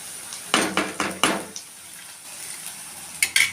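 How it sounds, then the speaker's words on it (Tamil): Onions sauté in a pan and are stirred in about five quick, clinking strokes of a spoon against the metal, followed by a soft, steady sizzle. "வெங்காயம் நல்லா வதங்கட்டும்."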